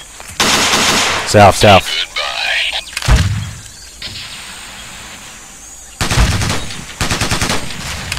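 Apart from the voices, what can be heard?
enemy gunfire in video game Ghost Recon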